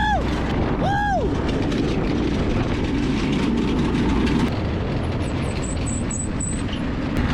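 A secondhand Yerfdog go-kart engine drones steadily as the kart is driven, a continuous rough mechanical rumble throughout, with a few brief high squeaks near the start.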